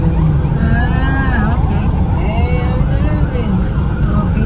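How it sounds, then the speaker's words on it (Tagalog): Ambulances and other emergency vehicles in a street convoy in the Philippines sound their sirens, with several wailing tones sweeping up and down together over constant road and engine rumble, fairly close and loud. "Convoy, ambulansya."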